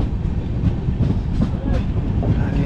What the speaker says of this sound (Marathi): आणि ट्रेन सुटलेली आहे